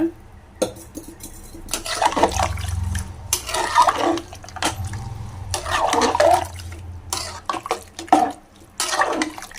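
Water splashes and pours into a pot of mutton curry in several bursts, with metal clinks and stirring close by; no one speaks.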